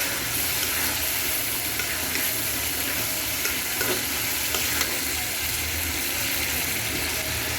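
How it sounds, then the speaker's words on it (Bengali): Spice paste frying in oil for a chicken curry, a dense continuous sizzle with faint stirring scrapes, steady and close throughout with no talking. "তেল উঠে গেছে, তার মানে আমার মশলাটা কষানো হয়ে গেছে।"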